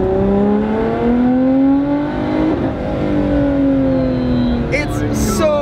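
A supercar accelerating hard through the gears with traction control on, the engine note rising steadily and close, while the driver talks over it.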